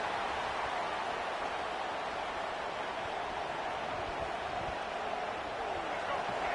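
Stadium crowd noise in a college football video game, a dense, steady roar of cheering fans that holds evenly throughout at moderate level.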